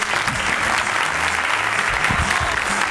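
Sustained applause from a comedy club audience greeting a stand-up comedian at a 2012 monologue show, dense, steady clapping throughout with no voices over it.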